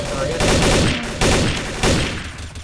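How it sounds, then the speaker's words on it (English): Rapid bursts of gunfire in the video game Garry's Mod come in three loud, closely spaced volleys, fairly close, with voices talking among the shots. "We're being shot at."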